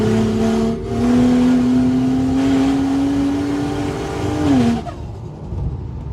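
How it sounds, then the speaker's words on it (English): A turbocharged 700 hp Ford Falcon FG F6 accelerates hard, heard loud from inside the car as the engine drone climbs steadily in pitch, then drops off abruptly when the throttle lifts near the end. "you can give it a boot full and it's suddenly the loudest in the world"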